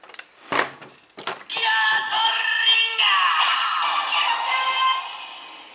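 DX Geartlinger toy morpher from Kikai Sentai Zenkaiger being switched on: a couple of plastic clicks from the switch, then a bright, sustained electronic start-up jingle from its small speaker, close and moderately loud, with no talking.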